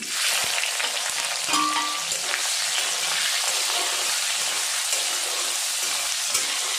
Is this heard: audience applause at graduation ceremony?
no